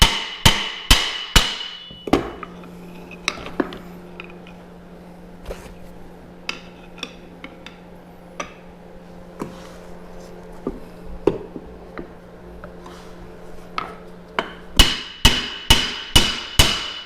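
Repeated hammer blows strike a ball joint on a C5 Corvette Z06 suspension, sharp metallic clanks in quick bursts at the start and end with scattered single hits between, close and loud.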